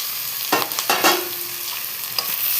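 Half a kilo of chicken going into a pan of frying onions, a loud close sizzle with a few quick stirring scrapes and a brief tonal squeak in the middle, no voices.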